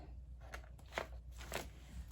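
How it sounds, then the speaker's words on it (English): Paper bags are handled nearby, producing several short, sharp crinkles and crunches spaced irregularly over a low steady background hum. "paper bags."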